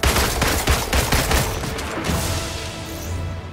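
A character in Marvel's Avengers fires her guns in a dense, loud burst of rapid shots that run together, tapering into a rumbling wash of impacts.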